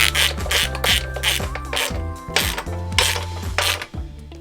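A ratchet wrench tightening nuts onto studs on a Neon SRT4 T850 transmission LSD and intermediate shaft, rapid loud clicking in repeated bursts, close and alone.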